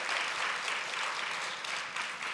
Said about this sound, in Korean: 박수 한번 칠만 하잖아요.